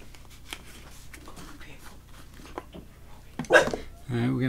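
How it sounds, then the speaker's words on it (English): A dog barks a few times, close and fairly loud, near the end, over quiet background noise and faint activity. "Enough people don't want to hear you barking."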